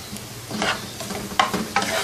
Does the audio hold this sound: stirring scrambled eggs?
yes